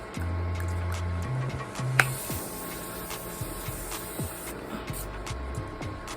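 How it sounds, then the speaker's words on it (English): Makeup setting spray is misted onto a face in a short soft hiss lasting a couple of seconds, close to the microphone, against a quiet room with faint background hum. "Go ahead and spray the face again."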